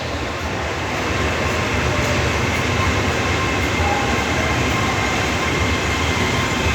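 An express train with diesel railcars coupled at the rear runs along an elevated track, a steady loud rumble of wheels and carriages that holds without pause throughout.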